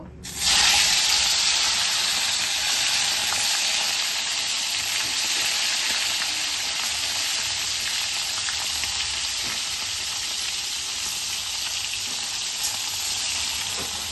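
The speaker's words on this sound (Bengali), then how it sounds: "মাছগুলোকে হালকা করে ভেজে নেব" Small fish fry lightly in hot oil in a kadai, making a loud, continuous close sizzle with faint stirring that starts abruptly and keeps a steady hiss throughout.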